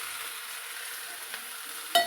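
Lentils and amaranth leaves sizzle steadily in a pan while being stirred, with a faint scrape and a sharper utensil knock at the very end.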